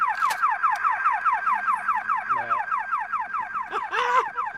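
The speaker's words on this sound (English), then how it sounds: "Oh, the alarm's going off." A tampered device in a battle-royale video game sets off a loud electronic alarm, a repeating rapidly sweeping warble cycling steadily throughout, with a brief burst of gunfire and other game sounds near the end.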